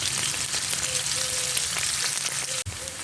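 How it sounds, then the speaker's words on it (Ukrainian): Bacon frying in a pan for Polish cabbage soup, a dense, bright crackling sizzle heard up close and continuous, with faint faraway tones and a sudden brief dip near the end. "І так, наш бікончик обсмажився, не пересмажений, красивучий, просто прелість."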